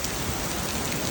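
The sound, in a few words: torrential rain downpour in Kuala Lumpur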